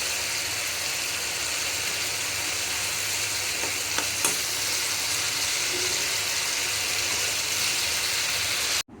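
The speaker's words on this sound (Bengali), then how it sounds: "নিয়ে একদম ভুনা ভুনা করে নেব মাছটাকে।" Fish in curry sauce being stir-fried down until thick, giving a loud, steady frying hiss with a few sharp clinks of a utensil, close up and uninterrupted by speech.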